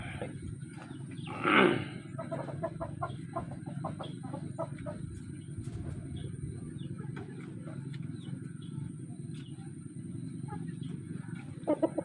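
A chicken lets out a loud squawk near the start, followed by soft intermittent clucking over a steady low background rumble.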